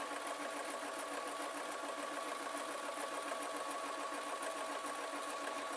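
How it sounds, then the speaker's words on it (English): Sewing machine stitching two fabric pieces of a travel pillow together, a steady fast mechanical whirr running continuously and evenly at close range with no pauses. "I am going to sew these two together now"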